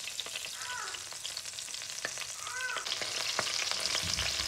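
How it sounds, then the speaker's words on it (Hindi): Ginger garlic paste hitting hot olive oil in a pan for chicken and vegetable pasta, a steady close sizzle and crackle with a few spoon scrapes and clicks. "अब मैं इसमें डालूँगी जिंजर गार्लिक का पेस्ट"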